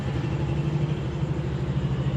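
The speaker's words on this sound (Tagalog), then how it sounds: "Ang ingay ng sasakyan." A car engine rumbles steadily at close range, a low continuous drone with no voices over it.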